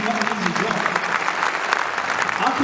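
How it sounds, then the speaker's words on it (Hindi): Steady applause from an audience, dense clapping filling the whole stretch with a few voices mixed in. "उस एफर्ट के लिए तालियों की गड़गड़ाहट सुनाई देनी चाहिए"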